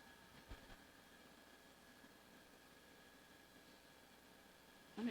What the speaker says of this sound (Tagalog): parang may motor na tumatakbo.